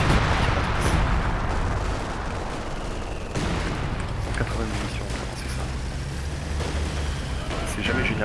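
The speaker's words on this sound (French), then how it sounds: "c'est un gros barrage d'artillerie en au milieu là" Heavy artillery barrage in a D-Day battle video game, dense rumbling blasts and rolling booms under continuous talk, loud and sustained with some sharper impacts.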